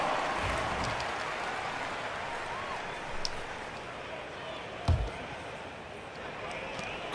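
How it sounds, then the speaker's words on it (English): Crowd applause fills an NBA 2K MyTeam basketball game arena: a steady, even wash of clapping and crowd roar runs throughout, broken by a couple of brief louder thumps. "Give them a round of applause."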